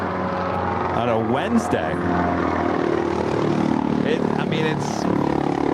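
Lufthansa airliner beginning its takeoff roll at LAX on a hot day, a broad distant engine roar rising steadily, with people talking over it.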